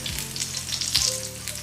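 Potato slices fry in a pan over medium heat, giving a continuous bright sizzle and crackle. A couple of low scraping thuds come from the pan being handled or the slices being moved.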